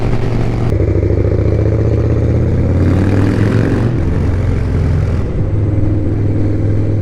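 Victory motorcycle riding after a smooth clutch release, a loud close engine drone with a clattering texture and slight revving, with no talk.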